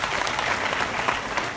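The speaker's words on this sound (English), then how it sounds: "Let's give them a big, big hand clap." A seated crowd at a training event in Uganda gives a brief burst of steady, moderately loud hand clapping with no voices on top.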